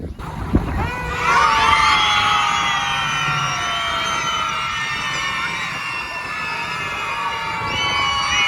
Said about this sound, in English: you kids are really good at yelling, aren't you?